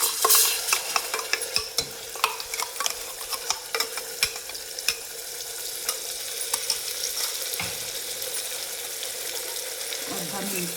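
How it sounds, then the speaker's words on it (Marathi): Green masala paste sautés in oil over a low gas flame with a soft continuous sizzle, punctuated by sharp, irregular ladle scrapes and taps against the pan, close and without talk. "आता आपण हे छान वाटण असं परतून घेतले तेलात"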